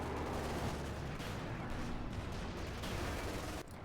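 Dense battle gunfire and bazooka blasts in Company of Heroes 2 as a German Panzer IV advances, a continuous loud barrage of shots and explosions with no pauses, then a sudden drop near the end.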